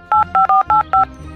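Five short, evenly spaced telephone keypad tones sound in quick succession, loud and close, each a clean dual-pitch beep as a number is dialed, with no talking.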